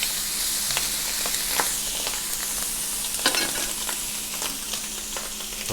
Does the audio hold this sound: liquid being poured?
no